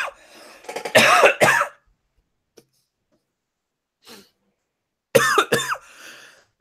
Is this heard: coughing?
yes